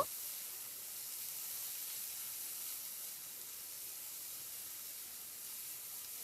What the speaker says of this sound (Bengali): মিডিয়াম ফ্লেমে নাড়াচাড়া করে আলুর সঙ্গে শাকটাকে একটু ভেজে ভাজা ভাজা করে নেব